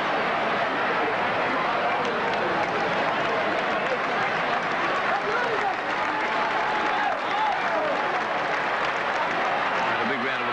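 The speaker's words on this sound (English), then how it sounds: "And a big round of applause for Jansen." Stadium crowd at a 1980 rugby league minor preliminary semi-final between St. George and Souths applauds a player, a broad continuous roar of clapping and cheering that fills the whole stretch with a commentator's voice faint beneath.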